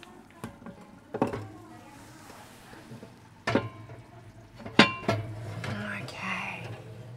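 A lidded tagine of Persian butternut squash and chickpea stew is lifted and slid into a baking oven, giving scattered ceramic and metal clinks and knocks, a few sharp, with soft speech between them.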